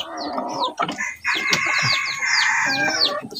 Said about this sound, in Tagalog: Ito na lang yung natitira natin ng mga labuyo.